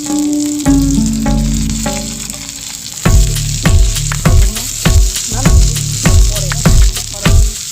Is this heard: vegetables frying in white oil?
yes